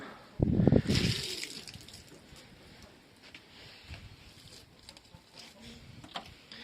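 A rabbit's water container is emptied and refilled with clean water: a short, close splash and pour near the start, then quieter intermittent trickles and handling sounds.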